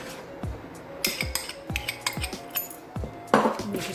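A spoon knocks and scrapes around a bowl while mixing dough for a mushroom and leek pie, giving irregular light clinks and taps close by, a few per second, with a brief scraping rustle near the end.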